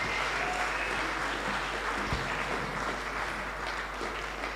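A church congregation at a Pentecost Sunday service applauds the children's department, a continuous even wash of clapping heard alone.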